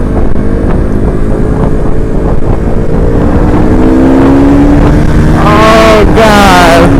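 KTM RC 200 motorcycle engine running loud and close with a steady droning tone that climbs in pitch, ending in two sharp revving surges, with a voice speaking faintly underneath.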